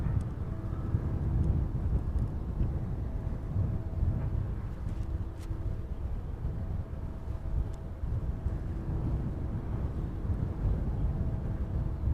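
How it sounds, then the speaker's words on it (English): Jet airliner landing at East Midlands Airport, reverse thrust giving a distant, steady low roar and rushing noise that holds evenly, with some wind buffeting on the microphone. "Can hear the reverse thrusters on that one."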